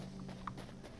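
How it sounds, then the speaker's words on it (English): Moose walking through a frozen tundra biome in the Hytale video game, giving soft hoof clip-clops in a quick, light rhythm over a steady low game hum, fairly faint and close. "Ooh, moose! We haven't seen moose yet."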